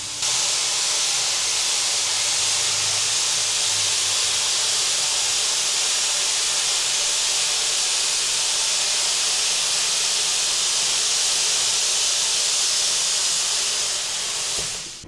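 A Blue Dragon Framework robotic system plasma gouging metal gives a loud, steady, continuous roaring hiss that runs unbroken for about fifteen seconds before tapering off at the very end.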